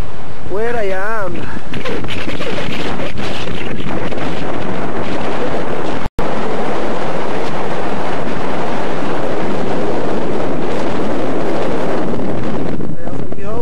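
Cold wind gusting and buffeting the microphone high on Ben Vorlich, a Scottish mountain, as a loud, continuous roar that runs through the whole stretch, with a voice briefly heard near the start.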